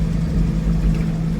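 A loaded truck's engine drones steadily on the road, a loud, constant low hum with no breaks.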